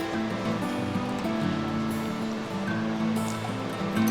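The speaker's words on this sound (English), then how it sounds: "there's a stream right in the middle" Runoff water trickles through a stream in an old overgrown canal, a continuous broadband rush and babble of moderate level with no voices heard.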